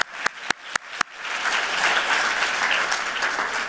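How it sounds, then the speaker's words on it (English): A few separate claps at first, then an audience breaks into sustained, full applause. "Give yourself a round of applause."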